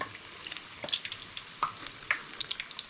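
Potato vadas, the batata vada of Mumbai street food, frying in hot oil, with a steady soft sizzle and small crackling pops and bubbling spits scattered across the quiet clip, no talking.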